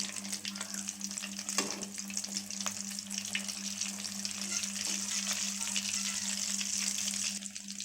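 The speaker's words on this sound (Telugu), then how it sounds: "డీప్ ఫ్రై చేసుకోవాలి" A potato and egg snack deep frying in hot oil, producing a constant, even bubbling sizzle close by with faint scattered pops, no talking.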